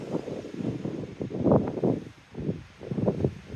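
Strong gusty wind on a mountain trail in the Vosges buffets the microphone in a continuous low roar, swelling and dropping in strong waves with no voices.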